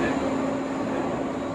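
Steady rumbling hum of an electric Caltrain train passing close, a continuous drone with no break, alone without talk.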